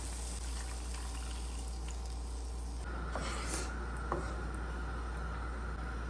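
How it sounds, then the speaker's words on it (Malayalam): Water pours steadily into a pan of sardine fish curry with a soft, continuous gushing rush, close by, with a brief splash partway through and no talking. "നമുക്കിനി ആവശ്യത്തിനുള്ള വെള്ളം ഒഴിച്ചു കൊടുക്കാം"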